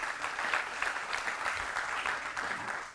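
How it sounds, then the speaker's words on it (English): A round of applause at a school district board meeting, steady and evenly sustained clapping from a seated crowd, moderately loud and unbroken. "Let's give her a round of applause"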